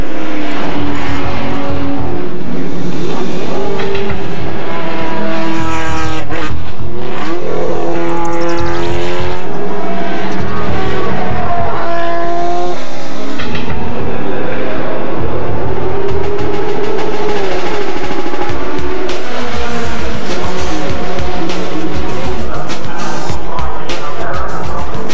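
Historic race cars roar at the Le Mans Classic 2006 as Louis Surstrassen's Ozella spins out, with loud engines revving and shifting pitch as they pass close by, no talking.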